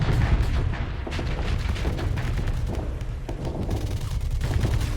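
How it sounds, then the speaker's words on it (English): Mauler mortar volleys fire in the Starsector space combat game, a dense, continuous barrage of heavy booming shots and rumbling blasts that stays loud and thick throughout with no pauses. "The Mauler mortar volley or whatever it was"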